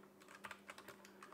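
Keys clatter on a cheap Temu mechanical keyboard, about a dozen quick clicky strokes in an uneven burst, close and fairly quiet over a steady low hum.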